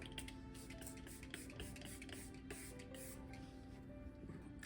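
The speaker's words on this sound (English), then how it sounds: "It's the Grip Set and Refresh Spray." MCO Beauty Grip Set and Refresh setting spray hisses in a steady, close stream over the face for several seconds, with no one talking.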